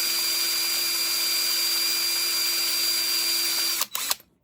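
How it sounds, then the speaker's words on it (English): A power drill bores a starter hole during a Honda CL350 motorcycle restoration, a steady, close high-pitched whine running unbroken for nearly four seconds before cutting off abruptly with a couple of brief trailing bursts. "Don't push too hard on your drill bits, okay?"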